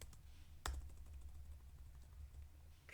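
Light typing on a computer keyboard while coding, with a quiet clatter of soft keystrokes and one sharper tap near the start, faint and close in a quiet room.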